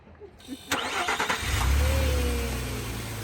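A car engine cranks and catches in a broken-down vehicle in Oman, then revs into a loud, sustained roar that settles to a steady drone, with voices talking over the start.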